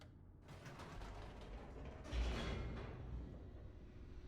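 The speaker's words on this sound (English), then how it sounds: "The elevator raced downward, plummeting towards an unknown fate." Elevator descending in the video game The Stanley Parable, a steady mechanical rumble with creaking and gear-like rattling that swells briefly partway through, then settles into a continuous low hum.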